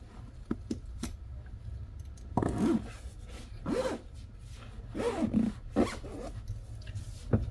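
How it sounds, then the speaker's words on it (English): A zipper on custom leather seat upholstery in a 2022 Toyota Tundra is drawn closed in several short, raspy pulls, close by, with small rustles and handling clicks between strokes. "And now we do the zipper."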